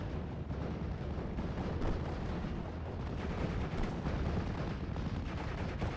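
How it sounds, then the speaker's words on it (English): Continuous rumble of bombing-strike explosions and distant gunfire in a WWII strategy video game, a dense, steady barrage with no pauses and no talk. "You got another bombing strike coming on in, hitting whatever cannon fodder unit that was"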